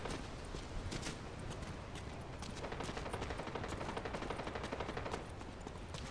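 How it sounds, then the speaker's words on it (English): Gunshots and machine gun fire in a video game during a duo match: dense, continuous rattling bursts of automatic fire at a steady moderate level, with no clear talking. "I hear shots coming from like the left, but I don't see them"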